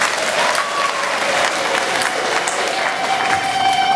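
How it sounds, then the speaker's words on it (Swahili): A church congregation in Kiteto applauds the Anglican bishop, a full, steady round of clapping with some crowd murmur lasting throughout. "Tumpongeze sana, tupige makofi kwa askofu."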